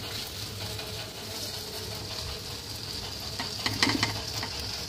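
Tomato being mashed and stirred with sugar in a pan while fish curry cooks, giving a steady low sizzle with soft scraping and stirring that grows briefly busier near the end.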